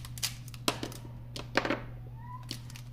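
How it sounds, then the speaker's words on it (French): A pet cat gives a brief, faint meow over a steady low hum, with sharp knocks and clicks scattered around it nearby. "Ah, mon petit chat. Voilà, vous l'entendez?"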